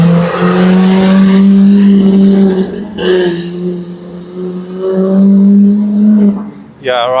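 A matte black Lamborghini Revuelto supercar passes on a London street, its loud engine holding steady tones then rising as it moves by up close, with people talking nearby.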